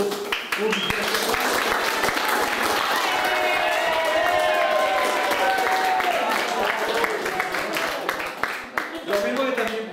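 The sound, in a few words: audience applause for cycling champions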